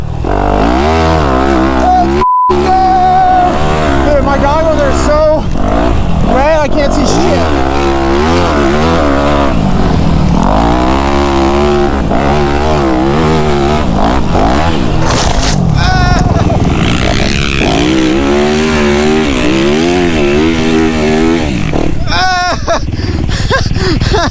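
Dirt bike tearing through a deep sand track, its engine loud and close, revving hard and bogging in continuous sweeping waves for the whole stretch, with riders' excited voices mixed in.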